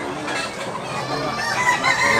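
Gamefowl roosters and stags in Tabunok, Cebu crow and cluck together in a dense, continuous chorus, loud and close, with overlapping calls filling the whole stretch.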